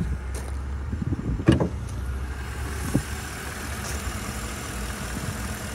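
The V8 of a 2009 Mercedes CLS550 idles with a low, steady rumble heard up close, broken by a couple of brief clicks or knocks, without any talk.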